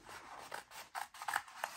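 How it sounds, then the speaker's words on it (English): Scissors snip open a zipper slot in folded tote-bag fabric: several quiet, close crisp cuts in an irregular rhythm, with soft rustling between them. "open it up, and then you're going to cut it open."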